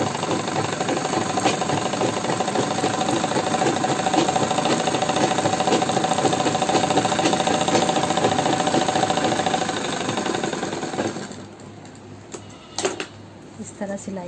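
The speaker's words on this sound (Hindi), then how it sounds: "अब हम इसमें थोड़ी सी डिज़ाइन डालने के लिए मशीन को यहाँ रखेंगे और गोल गोल बनाएंगे।" Sewing machine stitching a circular Mohri design, with steady rapid whirring and ticking for about eleven seconds before it stops, followed by a few faint clicks.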